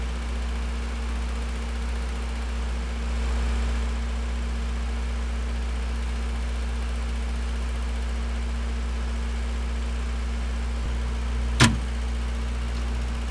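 A Cummins Onan RS30000 30 kW water-cooled standby generator runs with a steady low droning hum, broken near the end by one sharp clonk as the transfer switch throws over to generator power.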